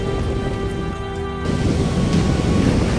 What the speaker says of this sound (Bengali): পেছনে ঢেউগুলো এসে আছাড় মারছে